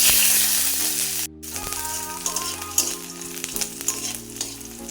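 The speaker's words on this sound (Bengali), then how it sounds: "প্রথমে কড়াইয়ে দিয়ে দিলাম তেল, তারপরে ফোড়নে দিয়ে দেবো জিরে, তারপরে দিয়ে দেবো কুচনো পেঁয়াজ রসুন" Cumin, chopped onion and garlic frying in oil in a kadai, a loud crackling sizzle that drops briefly, then returns with stirring scrapes and clinks over a steady background hum.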